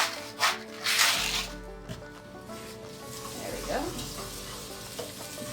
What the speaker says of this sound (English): I am going to melt 1/4 cup of unsalted butter and a little bit of salt.